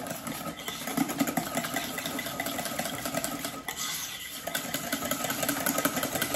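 An electric whisk whipping cream for a strawberry tart runs with a steady buzzing motor whir that rises as it speeds up, close and continuous with faint bowl rattle.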